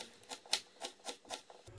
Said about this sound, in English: You dice your onion.